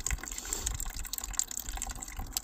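Water gushes and splashes steadily as it drains from the fresh water tank of a 320S travel trailer, a close, continuous rushing flow with no voices.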